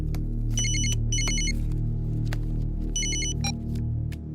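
A telephone rings in repeated electronic bursts, two quick trills, a pause, then another trill, fairly close over a low steady background hum.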